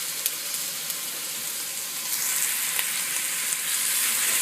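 Onion and bell pepper sizzling in a hot pan for a quinoa stew, a steady bright hiss that swells slightly partway through, with a few faint clicks, close and continuous.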